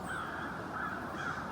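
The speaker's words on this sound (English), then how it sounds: "I do hear the faint sound of crows from over in that direction" Crows cawing somewhere in a wooded area, faint and distant, a few harsh calls rising over a steady background hush.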